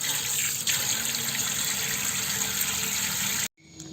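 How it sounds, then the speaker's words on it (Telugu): A banana stem is washed under a running kitchen tap. Water gushes steadily and loudly for about three and a half seconds, then suddenly stops, leaving faint drips and quiet. "దీన్ని శుభ్రంగా నీటితో బాగా కడగాలి."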